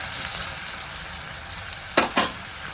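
Tomatoes fry with browned onion in a pan, giving a steady close hiss of sizzling, followed near the end by two sharp scraping stirs against the pan.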